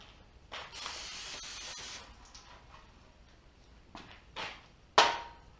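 An aerosol can of carburetor or brake parts cleaner sprays in a long hissing burst, followed by shorter bursts and a sharp click or clatter near the end, with no talking.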